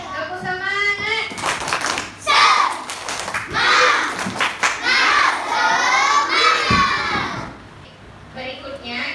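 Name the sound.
children doing the spirit clap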